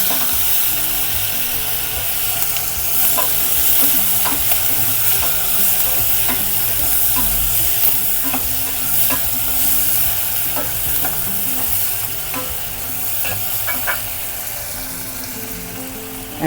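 Cubed tomatoes sizzle in hot oil while being stirred for paneer matar masala, a steady close frying hiss broken by repeated scraping and clinking of a spatula against the pan.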